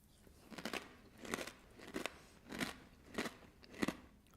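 Someone chews a small, crunchy seasoned snack, with six evenly spaced crisp crunches about every half second, close to the mic and fairly quiet, with no talking.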